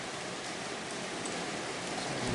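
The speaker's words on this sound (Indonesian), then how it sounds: "Pagi-pagi sudah hujan" Steady morning rain falling outside, a dense, even hiss that holds at a constant level with no talk over it.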